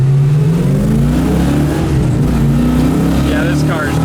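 A 1970 Chevelle SS V8 revs and pulls hard under acceleration, a loud, close, steady rumbling drone rising in pitch, with people talking over it.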